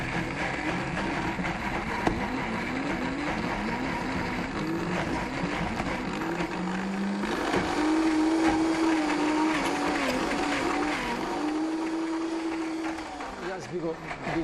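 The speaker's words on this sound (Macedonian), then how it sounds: "сето тоа полека го блендираме" A blender whirs steadily while pureeing wild garlic pesto, its motor pitch rising partway through, close and fairly loud, with people talking over it.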